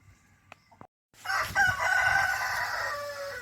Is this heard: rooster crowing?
yes